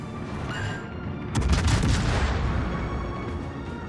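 Heavy cruiser guns fire in World of Warships from a Tier 8 US Baltimore, a loud booming salvo that breaks into a sustained rumbling roar after a steady background of engine and sea noise.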